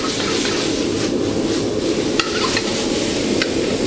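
A spoon breaking up cooked rice in a hot pan, with scraping and stirring over a continuous sizzle and a few sharp clicks of metal on the pan.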